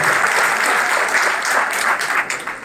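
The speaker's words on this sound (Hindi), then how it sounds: "ताली।" Loud, dense crowd applause fills a Congress party political rally, a steady roar of many hands clapping at once that eases slightly toward the end.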